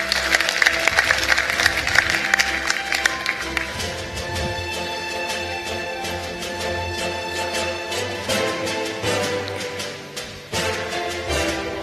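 An audience at the valedictory session and closing ceremony of an education forum claps loudly for a board chair, a dense roar of applause that gradually thins into scattered clapping across the hall.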